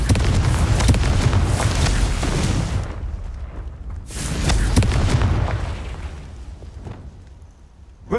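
A Confringo spell explodes in the Hogwarts Legacy video game with a loud, booming blast that rumbles and fades, then a second explosion of the same kind follows and slowly dies away.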